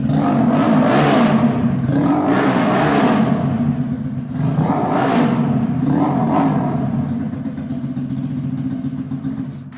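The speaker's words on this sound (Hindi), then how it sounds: "ये वो वाला मोटरसाइकिल है। स्ट्रेट पाइपिंग हुई है इस तरह।" A straight-piped motorcycle engine revs loudly in two long surges over a steady, rumbling idle, with a harsh, raw exhaust roar and no voices.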